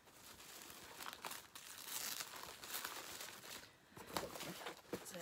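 Tissue paper crinkling and rustling as a subscription box is opened, faint and close, with irregular bursts of crackling handling noise and no talk.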